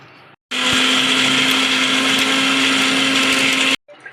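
Mixer grinder jar whirring at full speed, grinding peanuts, roasted gram and salt into chutney, a loud steady electric drone running about three seconds with abrupt start and stop, close, no talking.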